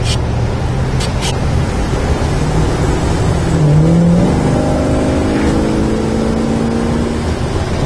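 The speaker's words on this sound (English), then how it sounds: "Really nice running car." A 1968 Dodge Charger's engine runs steadily while driving, a loud, close rumble with road and wind noise, its tone shifting and swelling briefly midway, with no one speaking.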